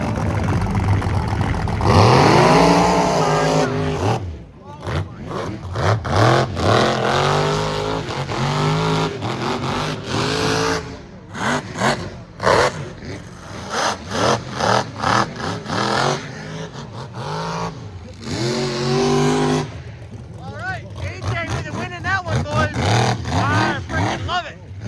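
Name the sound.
trucks revving and racing at Michigan Mud Jam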